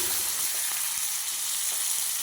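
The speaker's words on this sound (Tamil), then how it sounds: "வெங்காயம் நல்லா வதங்கின பிறகு ரெண்டு மீடியம் சைஸ் தக்காளி சேர்த்து நல்லா வதக்கி விட்டுறலாம்" Onions and medium tomatoes sautéing in a pan for a chutney side dish give a steady, soft frying hiss with a few faint stirring taps, close and continuous with no talk.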